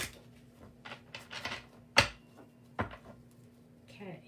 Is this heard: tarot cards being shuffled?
yes